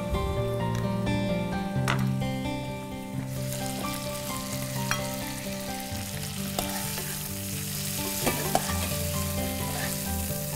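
A tomato goes into a hot pan and fries with a loud, steady sizzle, with stirring and occasional clinks and taps over continuous crackling in a kitchen cooking-show setting.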